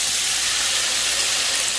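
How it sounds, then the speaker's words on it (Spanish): Pinto beans dropped into hot fat in a pan, giving a loud, steady, hissing sizzle that fills the whole moment without any talk. "Ya bien sofreída, vamos a agregarle los frijoles"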